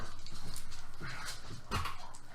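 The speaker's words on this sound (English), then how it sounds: "He just growls at you." A dog growls in a video game, brief low snarling bursts over a quiet humming game backdrop, fairly near, with no talk.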